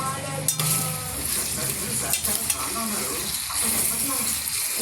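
Food being stirred in a sizzling frying pan, with a steady hiss of frying and occasional scrapes and clinks of the spoon against the pan, close by and continuous, with some faint voice in the background.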